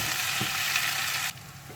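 Chopped onion and tomato sauté in a pan for a Kerala-style egg roast, giving a close, bright sizzle that suddenly softens to a quieter hiss near the end.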